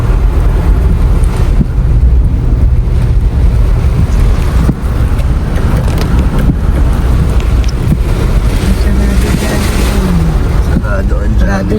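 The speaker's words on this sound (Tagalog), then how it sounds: "Grabe po, ang lakas ng hangin." Strong typhoon wind roars and buffets the microphone outdoors on a nearly empty street, a loud, continuous rushing blast with gusting surges that never lets up.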